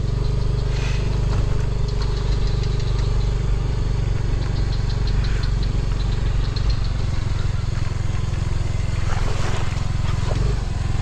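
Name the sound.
motorcycle engine running and stalling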